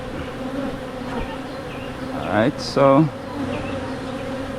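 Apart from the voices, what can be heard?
wild bee colony buzzing during removal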